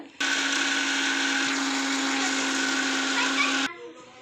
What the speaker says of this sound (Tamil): இப்போ நம்ம வந்து ஓரியோவை அரைக்கணும்.